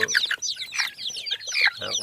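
Jungle fowl hen with fighting-cock chicks, giving a dense run of close, high chick peeps mixed with soft clucks.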